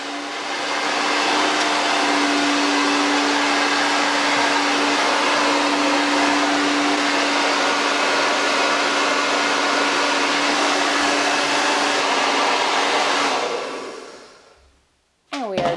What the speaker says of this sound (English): Number five, let's blow dry.